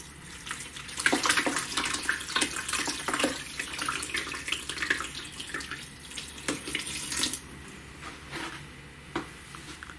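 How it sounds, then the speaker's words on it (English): Liquid pours onto dry coconut substrate in a tarantula enclosure and soaks in, giving close splashing and trickling with crackly, fizzing bursts that rise and fall, and no voices. "because this is so moisture starved, you can actually hear it soaking up the liquid."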